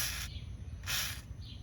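PB Blaster penetrating oil sprays onto hub bearing bolts of a 2002 Pontiac Grand Am, two short close hissing bursts with a fainter third puff, over quiet garage background.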